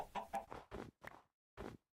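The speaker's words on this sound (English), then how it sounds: "I thought that chicken was the enemy." A chicken in a Minecraft modpack game clucks in five short, clipped bursts with brief gaps between them, close and clear against silence.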